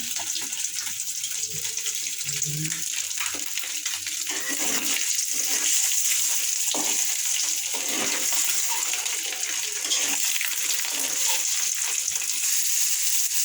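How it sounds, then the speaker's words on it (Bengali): An egg fries in a pan, making a constant, bright hissing sizzle with scattered pops and spatters, heard close and continuous with no talk. "ডিমটাকে ভেজে নেব।"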